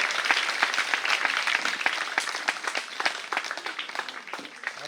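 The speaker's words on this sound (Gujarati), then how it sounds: "આપણે એવી તાળીઓ પાડીને બતાવો કે બીજાને પણ એક ઉત્તમ ઉદાહરણ મળી રહે." Audience applause at a school honours ceremony for a primary girls' school, steady dense clapping from many hands that fills the space and tapers slightly toward the end, with no voices over it.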